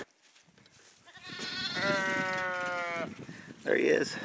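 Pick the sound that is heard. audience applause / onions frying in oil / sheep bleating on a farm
sheep bleating on a farm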